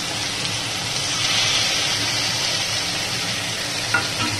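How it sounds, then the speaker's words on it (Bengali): Paneer and vegetables frying in a pan with chili and cumin paste, a steady close sizzle with soft stirring and one small clink near the end. "লঙ্কা জিরা বাটা দিয়ে একটু ভালো করে কষিয়ে নেব।"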